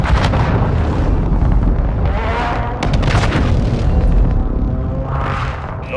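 Heavy booming blasts of an airstrike in the video game Warzone 2 roll and overlap continuously, loud and dense, with rumbling swells rising and fading throughout.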